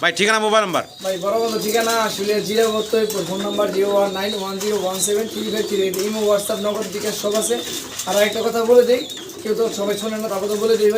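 Fancy pigeons coo softly in the background, their low throaty calls running beneath someone talking continuously close by.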